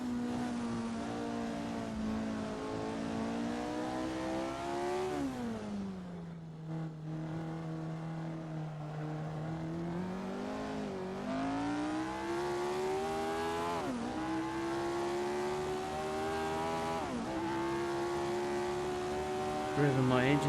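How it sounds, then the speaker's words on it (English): A 1967 Formula 1 race car in a racing video game revs hard, its engine note climbing and dropping repeatedly through gear changes, loud and continuous with a commentating voice underneath. "Revving my engine a bit too hard."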